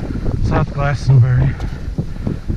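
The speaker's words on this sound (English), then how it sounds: "Wind's coming from the north." Strong gusty wind buffets the microphone near the top of a hill at Belltown Orchards, with gusts up to 40 mph from the north, a loud continuous roar under a man's speech.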